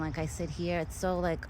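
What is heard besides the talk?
No distinct noise like a dog, phone or traffic.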